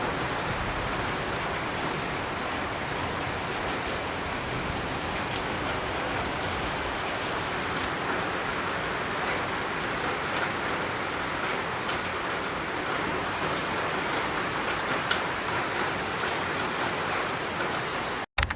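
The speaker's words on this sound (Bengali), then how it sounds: "সন্ধ্যার দিয়ে খুব বেশি বৃষ্টি হচ্ছিল, তো জাস্ট এনজয় দি সাউন্ড।" Heavy evening rain pours steadily in an even, dense hiss that never lets up, close and loud throughout with no voices.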